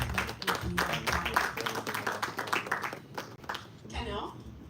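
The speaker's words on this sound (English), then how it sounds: "with a resounding round of applause, let us welcome Colonel Kofi" An audience at a Ghanaian international criminal law roundtable claps to welcome Colonel Kofi onto the panel. The clapping is steady and moderately loud, fades after about three seconds, and a voice speaks over and after it.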